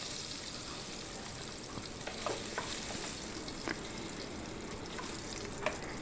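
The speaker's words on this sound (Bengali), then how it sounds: "2 থেকে 3 মিনিটের মতো সময় নিয়ে মিডিয়াম ফ্লেমে পনিরগুলোকে একটু নাড়াচাড়া করেই কিন্তু আমি নামিয়ে নেব" Paneer cubes fry in oil over a medium flame, a steady broadband sizzle with occasional soft clicks of stirring, close and even throughout.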